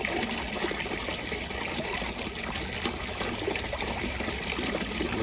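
Water trickles and splashes steadily from a pump-fed Geometrica tabletop fountain whose pump is not fully submerged, a continuous close dribbling wash with no voices.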